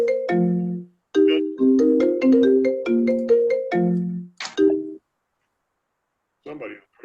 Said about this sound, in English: Somebody was ringing. Yeah, that's mine. I'm gonna shut it off.